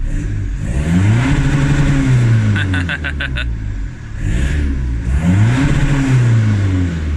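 A Vauxhall Vectra C 1.9 CDTI 150 diesel time-attack car revs hard and close, its engine note climbing and falling in two strong sweeps, with brief clicking in between.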